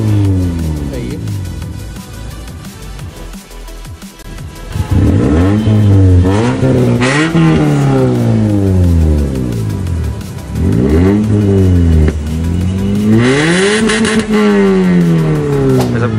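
A car engine at an auto show starts and revs repeatedly, rising and falling loudly and close by, with people talking over it.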